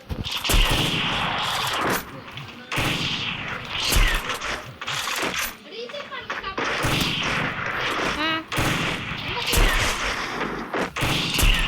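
Rapid bursts of gunfire and mechanical clicks from a shooting video game ring out in repeated loud volleys, with a voice talking over the action throughout.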